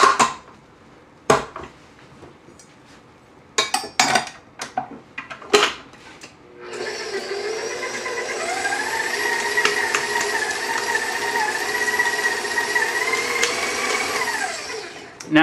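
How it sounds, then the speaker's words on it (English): A few sharp clunks and clatters of kitchen gear come first, then a stand mixer starts and runs as a steady, close motor whine while beating gluten-free choux pastry dough for profiteroles. "Now we're going to put this on the stand mixer."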